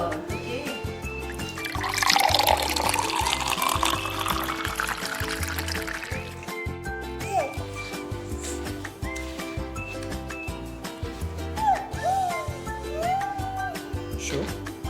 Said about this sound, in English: Now we will add water.